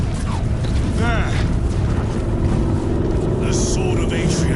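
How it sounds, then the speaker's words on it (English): Spaceship engines approaching in the Space Marine 2 video game: a steady, loud, roaring drone fills the whole stretch, with a brief whooshing pass and metallic clanks over it while battle chatter continues underneath. "I hear engines."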